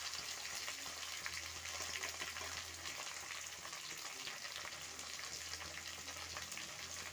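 Chopped tomatoes fry over a low flame in a pan for Assamese chicken, giving a soft, even, continuous sizzle and crackle throughout with no talking.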